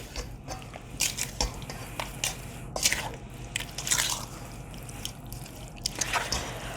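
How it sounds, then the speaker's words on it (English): A spoon stirs dry spices in a bowl for a pot pie filling, making soft scraping and clinking sounds. Light, irregular taps and brushes repeat close by, with no talking. "I will take a spoon and just stir it up really quick"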